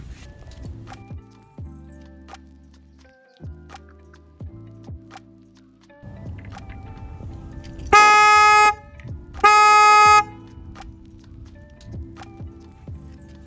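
An aftermarket car horn on a 10th-generation Honda Civic blasts twice in long bursts, loud, cutting over a rumbling idling engine and some clattering.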